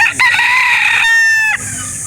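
A Cardinal cross Sweater gamefowl rooster at a chicken sale crows loudly and close up, one strained, drawn-out call of about two seconds with no talk over it.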